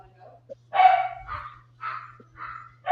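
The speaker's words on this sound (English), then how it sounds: "My dogs." Dogs barking in bursts at home during a livestream, several loud, close barks spaced irregularly over a steady low hum, with a brief quieter yip between them.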